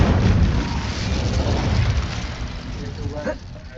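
An Incendio fire spell in the video game Hogwarts Legacy bursts with a loud, close, rumbling blast that rolls on as a dense roar for several seconds before slowly fading.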